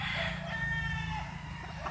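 A rooster on a large farm in Claveria, Misamis Oriental, Philippines, crows loudly and close, a drawn-out call over steady background farm noise with no talk.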